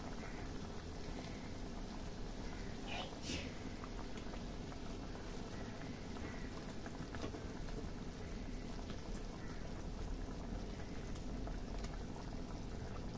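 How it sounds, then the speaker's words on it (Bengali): Soybean kofta gravy boils in a pot, a steady faint bubbling hiss that runs unbroken throughout, with a couple of soft clinks and no voices. "ঝোল আমার একদম ফুটে গেছে"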